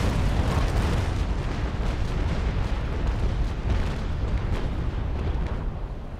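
Naval Action video game sea battle, three Bellona ships against a Victory, with ship cannons firing: a continuous loud, rumbling roar of overlapping broadside booms that fills the whole stretch without pause.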